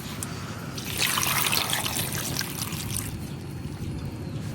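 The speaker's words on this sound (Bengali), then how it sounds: "এখন পেঁপে গোলা ভাপ দেওয়ার জন্য আমি এনে একটু পানি দিয়ে দেব" Water trickles and splashes as it is poured over grated raw papaya before steaming, a short, close pour that swells and then settles into a gentle dribble.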